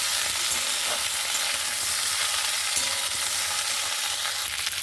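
Potatoes and flat beans sizzle and crackle steadily in a hot pan, with occasional scraping as they are stirred, loud and close throughout.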